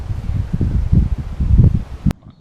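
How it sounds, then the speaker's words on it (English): Low, gusty wind buffets the microphone in uneven rumbling surges, ending with a sharp click and sudden quiet. "It is blowing a bit. It's actually a little bit windy today"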